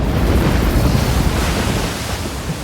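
Floodwater of the Girona River in a storm torrent that brings down a century-old brick bridge, a loud continuous rushing roar with broadband churning, steady throughout and easing slightly toward the end.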